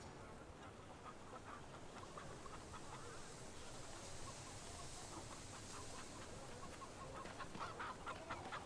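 Chickens clucking in the video game Fable 3, a steady busy chorus of several hens over a constant noisy ambient bed, the clucks soft and mid-distance throughout.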